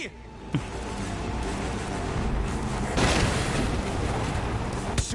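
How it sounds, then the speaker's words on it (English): A big explosion in the video game Far Cry 5 bursts out against dense game noise, with a sharp blast near the three-second mark, a smaller thump early on and another hit at the end. "There's an explosion!"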